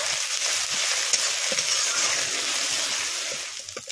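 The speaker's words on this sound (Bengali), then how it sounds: "মশলাটা এখন ভালো করে কষিয়ে নেব।" A spice paste of ground dried chilli, cumin and pepper frying in oil, a steady close sizzle with small crackles and occasional stirring scrapes running throughout, no talking.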